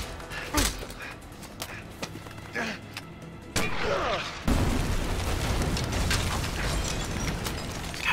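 Grenades go off in the game A Way Out: a few sharp blasts and mechanical clanks, then a heavier burst that swells into sustained rumbling noise.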